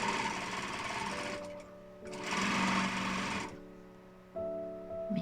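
Sewing machine stitching a joey pouch in quick bursts, a loud fast whirring run, a pause, then a second run and a brief third start, close up with no talking.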